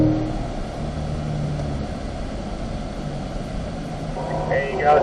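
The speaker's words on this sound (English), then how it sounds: "There you go, squeezing the throttle." A 2020 Corvette accelerating under throttle on a race track, a steady engine drone held at a constant level throughout, with talk over it.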